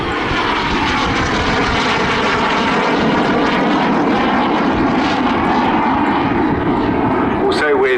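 A BAC Strikemaster jet flying a display at the Southport Airshow 2022 gives a loud, sustained engine roar that continues close by for the whole stretch, with a rising whine near the end.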